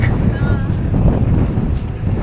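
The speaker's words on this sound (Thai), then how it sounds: "ลมนี่สะทุนมาก" Strong wind buffets the microphone during a bike ride on the scenic roads around Bremen, Germany, a steady loud low-frequency roar with gusty swells throughout.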